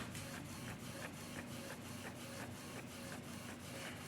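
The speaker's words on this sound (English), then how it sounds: "There we go, we're printing." Printer feeding a sheet and printing, a steady mechanical whir with a low hum and regular soft clicks about every third of a second, close and continuous.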